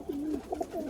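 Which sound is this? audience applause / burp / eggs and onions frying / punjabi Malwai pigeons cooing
punjabi Malwai pigeons cooing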